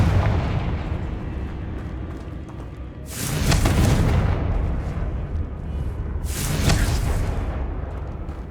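Two heavy blasts from the Confringo fire spell in Hogwarts Legacy, each a loud booming burst that rolls out over a steady game background, the second arriving about three seconds after the first.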